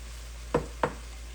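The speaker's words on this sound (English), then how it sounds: "Now I will add my tomatoes." Tomatoes dropped into a pot of trinity vegetables cooking for crawfish étouffée, giving two quick, soft splashy thuds about a third of a second apart over a low, steady kitchen hum.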